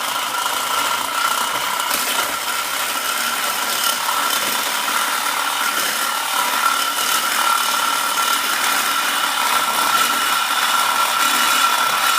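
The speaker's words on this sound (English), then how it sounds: "I got a fresh blade on the Sawzall now" A Sawzall reciprocating saw with a fresh blade cuts steadily during a chainsaw-powered minibike build, a loud, dense, continuous buzzing rasp that holds without pause for the whole stretch.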